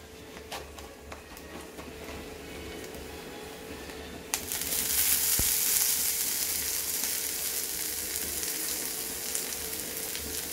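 Ridge gourd poriyal stir-fries with coconut in a pan. A quiet hiss of frying swells sharply partway through into a loud, steady sizzle that carries on to the end, with no voices.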